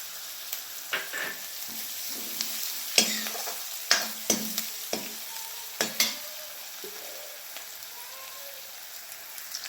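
Curry leaves crackle and spit in hot oil with golden-fried onion, a steady sizzle broken by sharp pops and a few louder spatters, close and alone.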